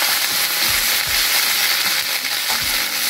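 Mixed vegetables sauté in a hot pan with a continuous loud sizzle, punctuated by a few stirring scrapes and clatters, no voices.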